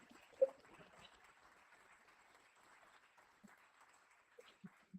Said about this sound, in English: Round of applause for Luke.